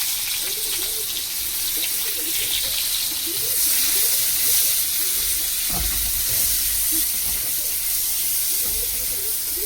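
Chopped onions frying in hot oil for a Bengali prawn curry, a continuous loud hiss and sizzle with faint bubbling, steady and close.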